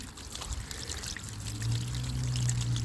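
Water is poured steadily over the sunroof of a 2015 Chevrolet Suburban to test a leak, a continuous splashing stream that grows slightly heavier toward the end, close by with no talking.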